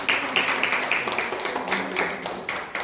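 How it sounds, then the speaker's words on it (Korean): Church congregation clapping in thanks for mothers, a steady, fairly close patter of hands with distinct sharp claps standing out early, continuous for a few seconds. "Let's applause to all of our mothers."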